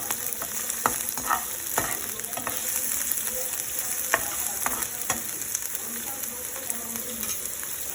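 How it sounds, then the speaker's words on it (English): Baby corn shallow frying in oil, a steady dense sizzle with occasional sharp crackles and stirring clatter, close and continuous throughout. "So we have to just shallow fry it"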